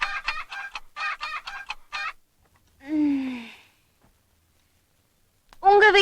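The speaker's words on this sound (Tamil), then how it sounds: "ஆனா இந்த லண்டன் கோழி டெய்லி 6 மணிக்கு கரெக்டா கூவிடும்." A rooster gives a burst of rapid, rhythmic clucks, falls quiet, then lets out a single drawn-out crow with a falling tail, followed by silence and the start of another loud call near the end.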